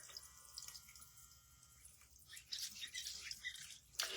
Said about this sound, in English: All right, so now I'm going to rinse off my face.